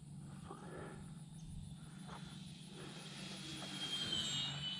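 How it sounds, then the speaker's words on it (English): Hacker XL model airplane flying outdoors on a hot summer day, its electric motor giving a steady distant whine under wind noise that grows slightly louder toward the end. "This is a fun plane, man."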